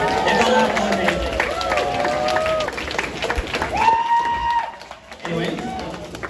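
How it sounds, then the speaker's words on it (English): Crowd at a TouhouFest 2025 cosplay contest applauds and cheers the contestants, steady noisy clapping with whoops beneath an announcer's amplified voice. "let's have a round of applause for all of our contestants so far"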